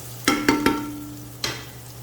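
Chopped garlic, ginger and fresh turmeric go into a pan of frying onions for chicken biryani. A soft steady sizzle runs underneath, broken by three quick stirring scrapes and then a fourth after a pause.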